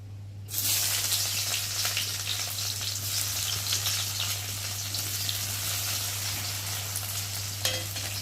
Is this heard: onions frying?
yes